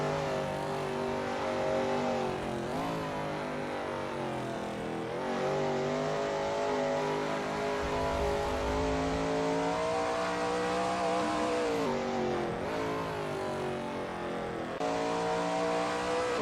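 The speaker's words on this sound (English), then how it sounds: "That ASRL Shelby Mustang GT350R looks good driving through Levant Straight" A Shelby Mustang GT350R racing a lap of Goodwood Circuit in a video game, its engine droning loudly and continuously, pitch rising and falling through gear shifts and throttle changes, heard alone.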